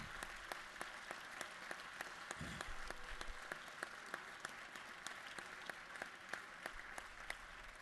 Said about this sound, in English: Would y'all please stand up and let's give them a round of applause.